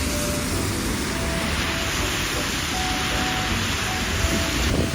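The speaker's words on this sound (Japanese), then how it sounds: "雨がやばい。" Heavy rain pours on a Seoul city street, a dense, steady hiss that fills the whole clip with low traffic rumble beneath it and no voices.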